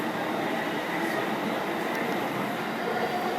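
Inside a moving train in Japan, a steady broad rumble and rushing roar of the ride fills the space, constant and close, with no talk.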